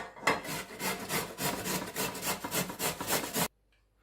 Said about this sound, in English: I'm gonna grate the carrots using a grater, and I'm gonna use the small holes this size.